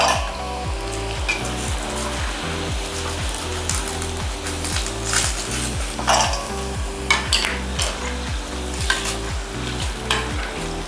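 Chicken pakoda pieces deep frying in hot oil make a loud, continuous bubbling sizzle with occasional stirring scrapes, over a low rhythmic mechanical hum, with no voices.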